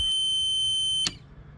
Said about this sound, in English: I'm just gonna activate the alarm, make sure the buzzer works